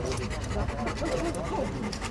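A police service dog pants quickly and continuously up close inside a vehicle's dog transport compartment, with faint rustling and muffled background noise.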